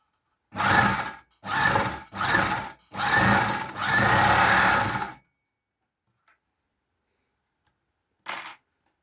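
A three-thread overlock serger fitted with an industrial sewing machine needle runs in five quick close bursts of whirring stitching, then goes quiet before one brief final burst.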